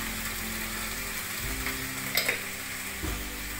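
Fresh beet greens sizzle steadily in a hot pan, a close, constant frying hiss broken by a few soft stirring clinks and scrapes, with no talking.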